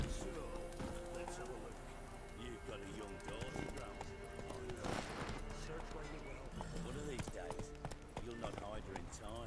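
Hooves of the horse Roach in The Witcher 3 clip-clop at a gallop in a steady rhythm, with a whinny, under continuous game music and speech.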